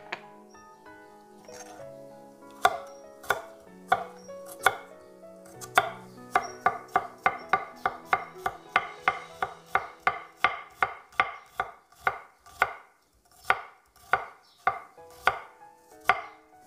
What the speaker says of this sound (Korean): 마늘 곱게 다져서 마늘 두 개 넣었습니다